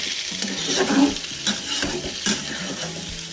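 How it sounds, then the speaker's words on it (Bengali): Chicken chaap sautés in a pan, with a dense sizzle under repeated scraping strokes of a spatula, close and loud throughout. "নাড়াচাড়া করতে করতে ভালো করে কষিয়ে দিই"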